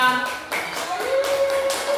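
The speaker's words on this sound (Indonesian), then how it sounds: "tepuk tangan buat kita semua" Schoolchildren in a classroom clap their hands together in a short, loose burst of distinct claps, following a moment of a teacher's voice at the start.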